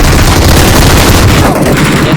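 Video game gunfire, a dense, loud, continuous stream of rapid shots and blasts filling the whole moment without a break.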